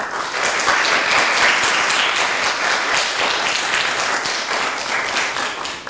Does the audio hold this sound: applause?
yes